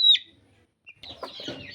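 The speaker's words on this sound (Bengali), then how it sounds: "এই যে খোপাওয়ালা মুরগি এটা" A crested hen with a helmet-like tuft of head feathers gives a short, soft run of clucks after a brief high chirp, close by and faint, with no voices.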